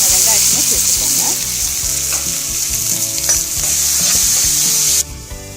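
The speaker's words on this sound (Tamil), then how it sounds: "நம்ம எடுத்து வச்சிருக்க வெங்காய வடகம், சோம்பு, கருவேப்பிலையை சேர்த்துக்கலாம்." Onion vadagam, fennel seeds and curry leaves sizzle and crackle steadily in hot oil for a mutton fry, with stirring scrapes throughout, loud and close, no talking.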